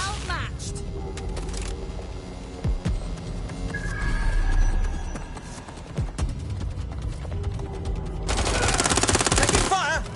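Automatic gunfire in Watch Dogs Legion, repeated bursts of rattling shots and booms running through the scene, louder near the end, with game voices and music underneath.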